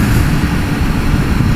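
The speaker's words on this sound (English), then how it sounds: "that's the police helicopter up there" Police helicopter flying overhead, a steady, dense rotor-and-engine roar that holds loud and unbroken throughout, with no voices.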